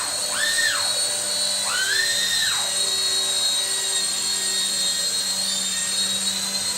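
A 4DRC M5 4-channel 2.4GHz RC helicopter in flight, its small electric motor and rotor giving a loud, close, high whine that rises and falls twice in pitch, then holds steady.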